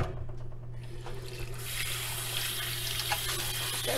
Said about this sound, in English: So now I'm going to wash the fish.